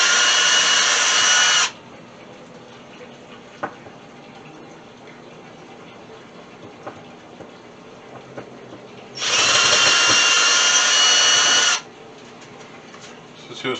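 A cordless drill backs screws out of old doghouse wood, with two sustained loud whirring runs of about two and three seconds separated by quiet handling noises.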